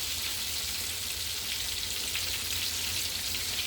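Battered green tomatoes frying in a pan over medium-high heat make a dense, constant crackling sizzle at close range that stays even throughout.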